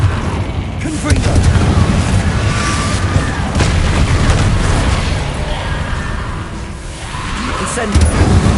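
Confringo fire spell explosions in Hogwarts Legacy, several loud booms and blasts over a rumbling combat bed, with a voice speaking at points.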